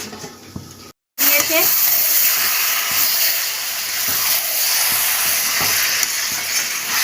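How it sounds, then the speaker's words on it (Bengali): Chicken chukka sizzling in a covered pan over low heat, a loud steady hiss of frying and steam that follows a brief cut, with faint scraping and stirring knocks underneath. "এটা একটু চাপা দিয়ে দিয়ে রান্না করতে হবে"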